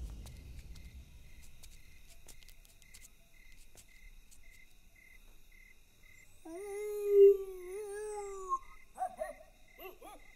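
In a Hindi comedy film scene, a man imitates a dog, giving a drawn-out howl and then a few short barks as a code signal over a steady chirp of crickets at night.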